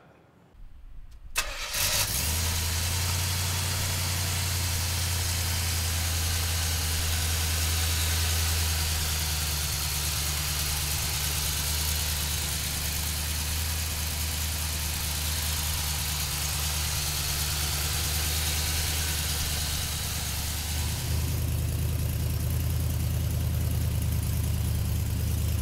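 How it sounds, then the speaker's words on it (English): A 1971 Pontiac Firebird engine cranks briefly and catches, then settles into a loud, steady, rumbling idle close by, with a slight change in tone near the end. "So come on up and we'll fire this Firebird up."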